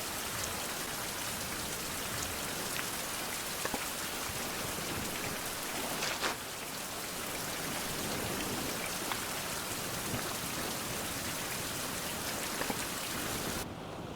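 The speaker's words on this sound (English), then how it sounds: "I just slept through the rain and stuff" Steady rain pours down in the survival video game Survival: Fountain of Youth, an even, unbroken hiss of drops with a few louder pattering spots and no voices.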